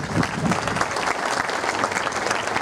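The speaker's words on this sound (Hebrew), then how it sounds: "מחיאות כפיים" Dense, loud crowd applause from an audience gathered to honor war heroes, many hands clapping together in a steady wash of sound with a few stronger claps standing out near the start.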